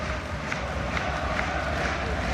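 Football supporters roar steadily at Windsor Park during the opening minutes of a Northern Ireland versus Denmark Euro 2024 qualifier, a dense continuous crowd noise with no clear individual voices.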